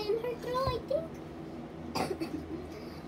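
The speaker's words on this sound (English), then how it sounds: "she keeps coughing and coughing" A young girl with a sore throat coughs in several short bursts close to the mic, with a sharp harsher cough later, mixed with bits of child vocalizing in a quiet indoor room.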